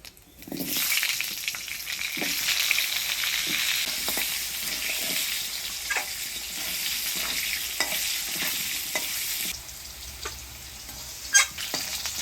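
Steady oil sizzle with potatoes frying alongside whole cumin and dried chillies, broken by repeated scraping stir strokes from a spatula; close and fairly loud, no voices.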